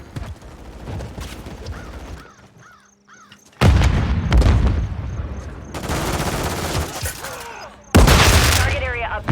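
Akimbo shotguns blasting in Modern Warfare 3, loud repeated bursts of game gunfire in several heavy clusters with brief quieter gaps between them.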